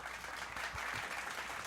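Rapid clapping repeats over and over, looped and layered into a dense, continuous patter that stays fairly quiet and even, with no voices on top.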